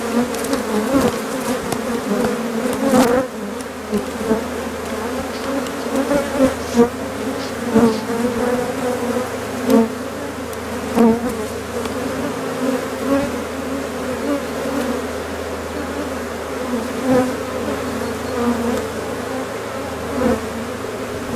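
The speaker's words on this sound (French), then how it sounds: "il reste quelques abeilles, mais bon, elles retourneront à leur ruche souche" Honey bees swarm around a hive, a dense steady buzzing close by that holds throughout with small swells and a few sharp knocks, no voices.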